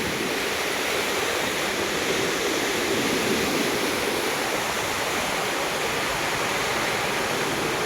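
Water rushes through the open shutters of the Velliyamkallu bridge regulator at Thrithala, Palakkad, after rain, making a loud, continuous broadband roar that holds steady from start to finish with no voices.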